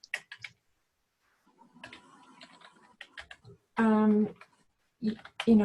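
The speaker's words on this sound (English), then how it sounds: "you just start typing MLM, enter" Computer keyboard keys click in short, uneven bursts while entering tags, mixed with a person speaking between and over the keystrokes.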